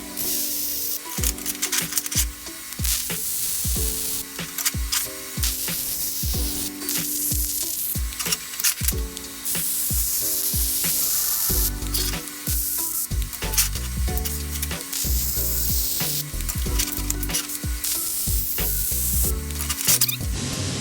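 Plug welds and corner welds laid on a dual caliper bracket, a close, continuous crackling sizzle with sputtering pops that runs through most of the stretch with brief breaks, no voices.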